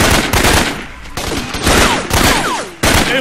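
Rapid gunfire bursts from a jungle combat mission in the Raven Squad video game, loud and close, with sharp repeated shots separated by short pauses.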